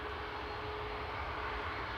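A steady, loud airliner roar at Manchester Airport from a Jet2 plane, registration LSAE, known for flaps that rub in transit, holding a constant drone with a faint whining tone and no talking.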